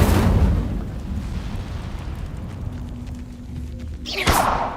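Fire spell Incendio cast in Hogwarts Legacy: a deep rumbling burst at the start, a low sustained roar, then a sharp whooshing flare near the end.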